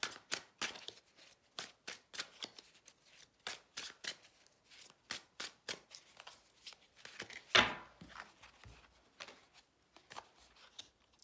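Tarot cards shuffled and dealt by hand at a reading: a steady run of soft, crisp card riffles and flicks, with one louder slap near the end as a card is laid down, and no voices.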